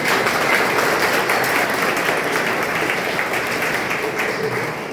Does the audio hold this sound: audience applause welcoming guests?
yes